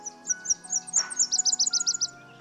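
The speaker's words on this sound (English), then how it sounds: "We got the Nashville warbler," A Nashville warbler sings in an upland deciduous forest, a quick series of high, thin chirped notes speeding into a brisker trill, fairly close and clear against a quiet background.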